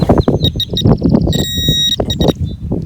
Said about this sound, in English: The detector is saying it's somewhere in this clump here.